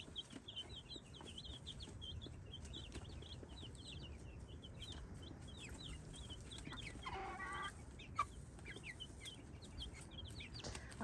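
Chickens cluck steadily inside a farm coop at morning, many birds calling in repeated short notes at moderate distance, with a brief louder squawk partway through and no talk.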